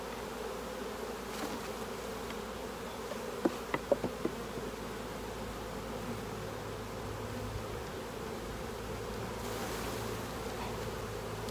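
Saskatraz honey bees at an apiary buzz in a dense, steady swarm drone as a frame is shaken off, with a few faint knocks partway through.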